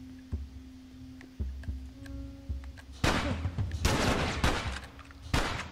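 Gunfire in The Last of Us video game: a few loud, close bursts of shots arrive in the second half, between stretches of quieter game ambience with faint clicks and tones.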